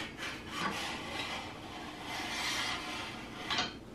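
A Ryobi 10-inch drill press table assembly slides down its metal main column, giving a continuous scraping, rubbing rasp with a couple of louder grinding surges, close up and without talk.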